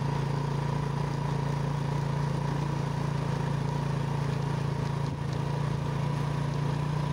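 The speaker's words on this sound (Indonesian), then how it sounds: "Saya menggunakan motor Revo 100 keluaran tahun 2009 teman-teman" A 2009 Honda Revo 100 motorcycle runs steadily on village roads, its engine drone continuous and close with a low hum, wind noise constant throughout and no talk.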